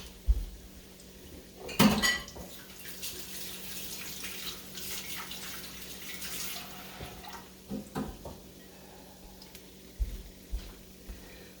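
An item set down with a clatter in a kitchen sink, then tap water running steadily, with a few more knocks of dishes and utensils against the basin.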